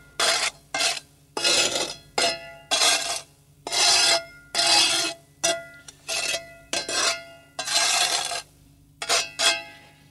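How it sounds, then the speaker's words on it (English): A trowel edge smooths off filler in about a dozen short, close scraping strokes, each a rasping swipe separated by brief silences, with no talk. "And then you can just smooth it off with the edge of the trowel"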